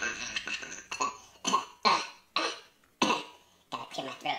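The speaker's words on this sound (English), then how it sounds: "Gotta clear my throat." A voice clears its throat several times in short, harsh bursts spaced by brief pauses, close and fairly quiet.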